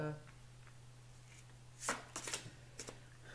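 Large-format cards from a Ciro Marchetti tarot deck are shuffled close by, with a short cluster of papery riffling bursts near the end after a quiet stretch over a low hum.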